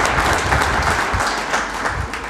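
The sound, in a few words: audience applause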